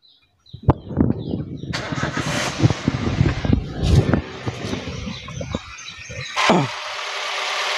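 A 2009 Toyota Avanza Type G engine is cranked with a rapid whirring starter, sputters and catches, then settles into a quieter, smooth running hum; no one speaks.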